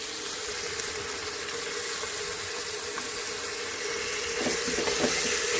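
Two spoons of unsoured curd are stirred into tomato masala frying in a pressure cooker for biryani, giving a steady, even sizzle throughout with no one talking.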